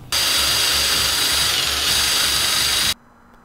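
A grinding stone on a power tool works a brake caliper for a Nissan 240SX brake swap, a loud steady whine held for about three seconds before stopping abruptly and leaving a faint hum.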